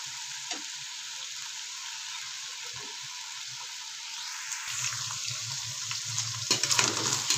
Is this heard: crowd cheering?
no